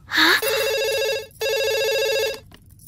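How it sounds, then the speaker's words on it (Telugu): A telephone rings twice in a Telugu movie comedy scene, two long electronic trills separated by a short pause, clear and close, after a brief sound at the start. "పబ్లిక్ ఫోన్ నుంచి అబ్బాయి ప్రైవేట్ గా ఫోన్ చేస్తాడు"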